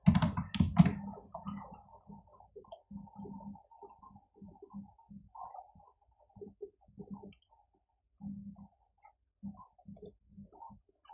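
Computer keyboard typing a file name, scattered quiet key taps in short irregular bursts, following a louder opening burst of clicks.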